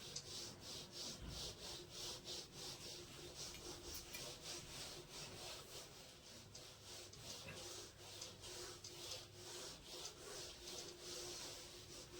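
An answer being rubbed off a classroom board with steady back-and-forth wiping strokes in a quick, even rhythm, faint but continuous throughout.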